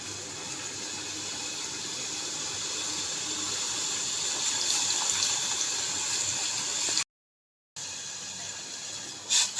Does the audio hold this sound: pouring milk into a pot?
yes